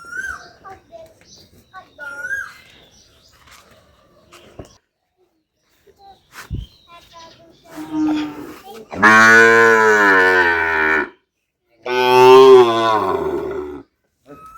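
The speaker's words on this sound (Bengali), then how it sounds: "এক একটা গরু কিরে ভাই" Sahiwal bull calves lowing close by: two long, loud moos in the second half, after scattered quieter voices and background noise.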